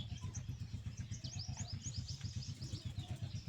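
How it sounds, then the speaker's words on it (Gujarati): House sparrows chirp at their nest in short, quick tweets, faint and somewhat distant over a low, steady rumbling engine hum. "એમાં માળો કરે જો ચકલી નીકળી"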